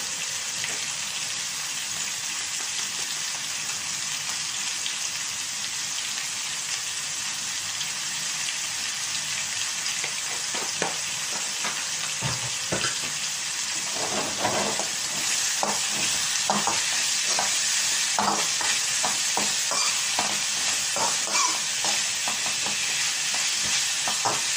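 Onion, garlic and ginger sauté with salt in a pan for Kerala-style fish curry, a steady hiss of frying joined midway by repeated scraping spatula strokes that grow busier toward the end.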